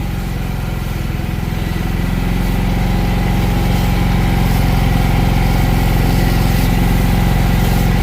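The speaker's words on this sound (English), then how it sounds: "See the hose moving. It's sucking out dirty water once it gets to a certain height." A carpet cleaning machine runs steadily and loud, its motor drone constant throughout as it sucks dirty rinse water up through the hose while cleaning a carpet soiled by a dog.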